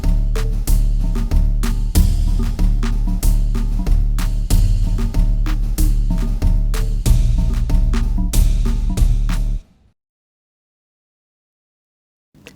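Punchy reggaeton-style beat with a steady kick, sharp claps and deep 808 bass repeats in a driving, loud pattern, then cuts off abruptly into near silence.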